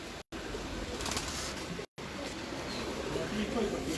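A pigeon coos in low, intermittent murmurs amid outdoor ambience, two brief dropouts breaking the sound, while people talk nearby.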